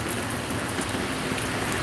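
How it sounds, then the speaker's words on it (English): Rain falls steadily on a Los Angeles street, a dense, even hiss close by with no pauses or voices, heard from under a small awning beside an open moving truck. "It's raining."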